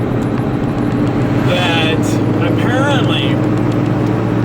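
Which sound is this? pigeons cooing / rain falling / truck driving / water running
truck driving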